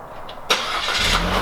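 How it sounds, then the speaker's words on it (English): A 2019 Chevrolet Trax four-cylinder engine cold-starts by remote: a quiet lead-in, then a sudden loud crank and catch at mid-clip, settling into a steady, close idle with a low rumble. "So, cold start, 2019 Chevrolet Trax. Got the big 4-cylinder in there."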